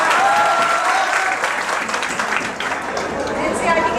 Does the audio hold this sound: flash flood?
no